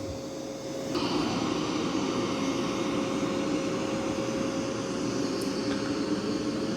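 A Mova V50 robot vacuum runs on carpet at maximum suction, its motor kicking up after a second into a steady, loud, close whir with a constant high tone and rushing airflow, alone.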